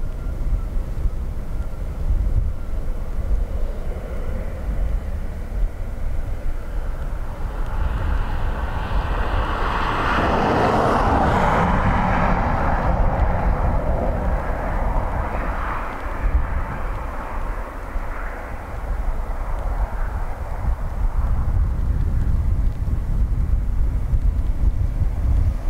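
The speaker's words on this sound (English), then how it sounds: "So Emirates using full length of the runway to get stopped." An Emirates airliner lands and brakes hard on the Dublin Airport runway, a heavy roar that swells to a loud, rushing peak midway, then fades back under steady wind buffeting on the microphone.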